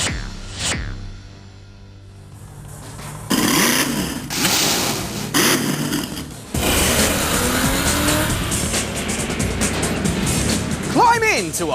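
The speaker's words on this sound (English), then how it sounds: "Climb into a hot rod, muscle car or performance car, each with its own paint job, and rip it apart at the expense of your opponents" Hot rods and muscle cars race in an Xbox video game, their engines roaring in loud bursts alongside squealing tyres and skids after a quieter opening.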